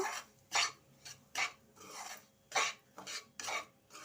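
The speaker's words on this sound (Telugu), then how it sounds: "రవ్వని నెయ్యిలో బాగా కొద్ది కలర్ వచ్చేదాకా వేసుకుందాం" Semolina roasts in ghee in a pan, stirred in a series of distinct scraping rasps, each a short gritty stroke, close but fairly quiet with brief gaps between strokes.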